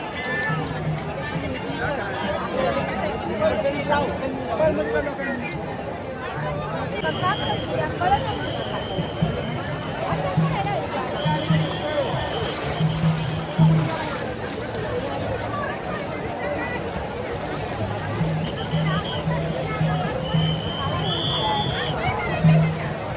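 Dense crowd babble at a riverside during the Pandharpur wari pilgrimage, a steady wash of many voices with people bathing in the river, continuous and moderately loud throughout.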